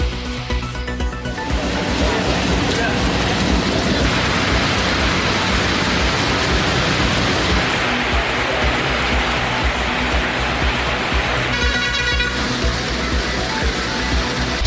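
Steady rain falling over the Avadi and Ambattur suburbs of Chennai, a dense, even hiss of downpour that carries on without a break, loud and close.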